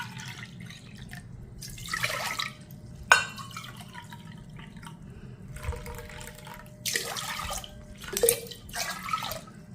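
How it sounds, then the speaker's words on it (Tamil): Water from soaking Mappillai Samba rice is poured into a pot in several short, close splashing bursts separated by quiet gaps, with light drips and clinks in between and no talking. "அதை நம்ம ஊற வச்ச தண்ணியை வந்து இதில் அளந்து ஊற்றிக்கிறோம்."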